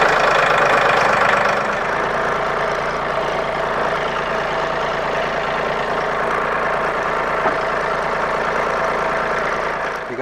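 A Mahindra tractor's diesel engine idles with a steady, knocking rumble, close by and unchanging, after a brief louder rev at the start.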